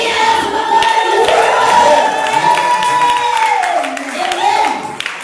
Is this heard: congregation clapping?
yes